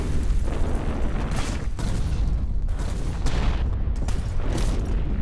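A Second World War artillery barrage in Italy, with more than a thousand guns, infantry cannons, mortars, tanks and tank destroyers opening fire, rolls on as dense, continuous booming and overlapping bursts, loud and rumbling throughout.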